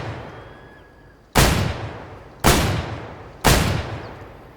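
Three loud, sharp semi-automatic gunshots fired at a video game firing range, each a single crisp report with a decaying tail, spaced about a second apart after a quiet start.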